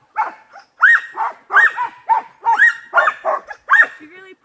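Sled dogs at a summer sled dog camp near Juneau barking in a loud, close, rapid series of about a dozen yelps and barks, ending with a short whine.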